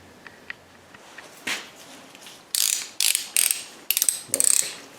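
Torque wrench set to 78 Nm ratchets in short, sharp bursts while tightening variable valve timing sprocket bolts on a 2012 Nissan Versa, after a few faint clicks, close and crisp with pauses between strokes.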